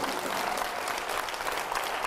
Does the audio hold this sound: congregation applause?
yes